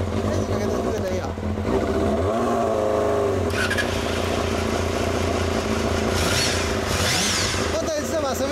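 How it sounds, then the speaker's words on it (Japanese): A Kawasaki Balius 250 inline-four motorcycle engine revs up and down near at hand, rising and falling in pitch over several blips, with a voice talking briefly at times. "バリオス2エンジン音聞かせて"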